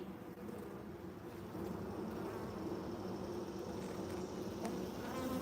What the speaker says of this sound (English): The big bee, almost looked like a bumblebee. They're the male bees.